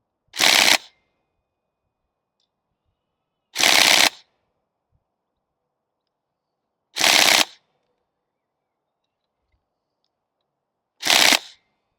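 An airsoft gun fires at a target in four short, loud bursts spaced a few seconds apart, with silence between each burst.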